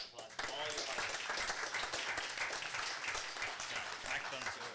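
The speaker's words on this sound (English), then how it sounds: "Let's give him a round of applause for all your hard work." A room at a city council special meeting breaks into applause, dense and steady clapping from many hands close by, sustained for several seconds with faint voices mixed in.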